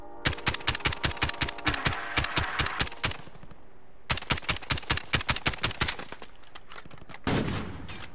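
Rapid automatic rifle fire in a Call of Duty Warzone match, two long loud strings of sharp evenly spaced shots separated by a brief pause, followed by a softer rumbling thump at the end.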